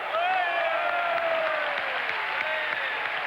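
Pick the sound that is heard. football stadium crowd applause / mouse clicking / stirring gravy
football stadium crowd applause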